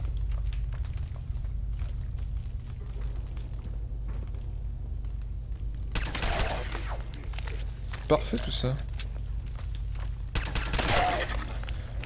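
Sharp bursts of shots from a small gun in Fallout 4, two clusters of loud cracks partway through after a quiet stretch, with someone speaking briefly.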